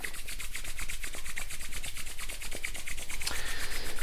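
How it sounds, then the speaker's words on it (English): Two hands rub briskly together during a meditation, giving a steady, close rhythmic swishing friction that stays loud and unbroken throughout. "Let's rub our hands together."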